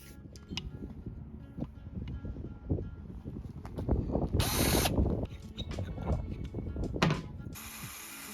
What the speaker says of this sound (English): I'm pre-drilling holes for the fittings